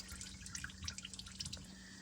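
Engine oil draining from a 2011–2018 Ram 2500 with a 5.7 HEMI into a pan: faint, quiet dripping and trickling with scattered irregular drops over a low steady hum.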